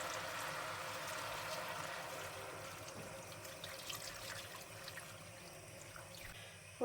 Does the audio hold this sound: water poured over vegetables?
yes